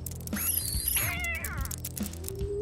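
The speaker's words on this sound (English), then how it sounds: "Our kitten explores the world again." A kitten meows several times in a busy scene, with high, bending, wavering cries over steady low rhythmic music and background clatter.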